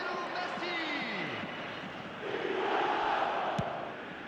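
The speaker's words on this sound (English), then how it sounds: "the crowd are reacting to that now" Crowd reacting in the eFootball 2026 football video game on PS5: a broad, steady roar of stadium noise that swells a little partway through and continues for the whole stretch.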